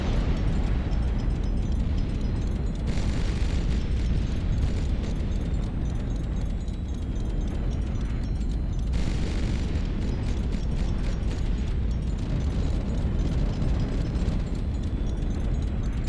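A rocket strikes a ship during a battle in the HighFleet video game, producing a dense, rumbling barrage of explosive booms and impacts that stays loud and continuous throughout.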